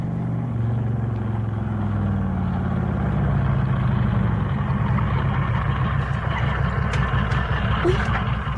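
A big motorbike engine runs steadily and fairly close, giving a continuous low rumble that holds throughout, with faint voices in the background.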